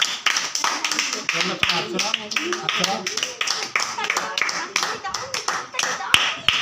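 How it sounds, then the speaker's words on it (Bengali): Children clapping hands in a classroom, a busy stream of uneven claps throughout, close and lively, with children's voices chattering over them. "হাততালি মারো, হাততালি মারো।"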